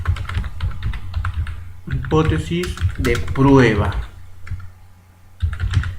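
Keys clatter on a computer keyboard as a name is typed into engineering software, quick bursts of clicks at the start and again at the end, with someone speaking in the middle.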